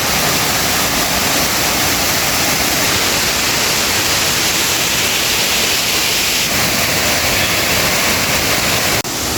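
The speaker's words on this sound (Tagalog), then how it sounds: "Ito na yung panghuling falls." Waterfall in Agusan del Sur, Mindanao, roaring as a loud, steady broadband rush of falling water that fills the whole span, close and unbroken, with no voices over it.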